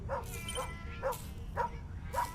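Dog in the cyberpunk cat game Tales of the Neon Sea gives about five sharp, evenly spaced barks and yips, close and fairly loud, over a low rumbling background hum.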